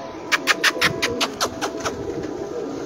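Captive pigeons kept in a coop give a run of short, repeated calls close by, about ten pulses over the first two seconds, then fade into quieter background.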